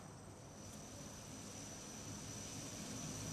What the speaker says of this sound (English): That sounds like a turboprop.